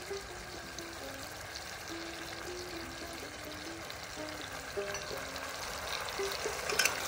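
Washed masoor lentils are tipped into a pan of hot oil, giving a soft pouring patter over a low sizzle. A faint tonal hum runs through it, and the sound grows slightly louder toward the end.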